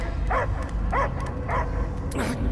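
Dog barking in the video game Marvel's Guardians of the Galaxy: a few short, evenly spaced barks or yips over a steady low game soundscape, fairly close and moderately loud.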